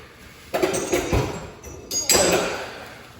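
A kitchen knife is drawn across a sharpener a couple of times before thinly slicing ginger for Chinese porridge, giving two scraping, metallic strokes near 0.5 and 2.1 seconds with a faint clink between.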